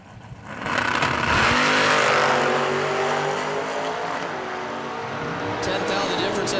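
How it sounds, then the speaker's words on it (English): A Long Island-based Camaro drag races a wheel-standing '41 coupe at South Mountain, engines roaring loudly at launch and holding a sustained high-revving drone down the track, with crowd and announcer talk underneath. "Long Island-based Camaro taking on Pat Hahn, one of the South Mountain regulars, down 5-5-0. Wheel standing 41 coupe."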